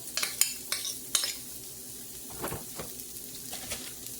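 Onions and ham hit a hot pan with a few sharp clinks of utensil against metal, then settle into a soft, low sizzle with scattered scraping; close and fairly quiet, without speech.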